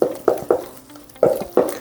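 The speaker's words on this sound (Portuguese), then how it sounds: "vou misturando aqui com a espátula. Estou usando aqui uma espátula de bambu." Bamboo spatula stirring yogurt bread dough in a frying pan, a series of quick, close, rhythmic scraping strokes in short bursts with a brief pause midway, no talk.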